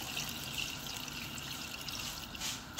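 Steady, faint stream of water poured into a cooking pot for Hungarian chicken paprikash, a soft continuous gush.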